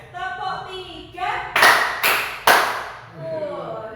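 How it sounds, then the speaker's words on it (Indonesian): Three sharp, loud group claps from a classroom of children, evenly spaced about half a second apart, with a teacher talking before and after. "Tepuk 1. Tepuk 2. Yes. Tepuk 3."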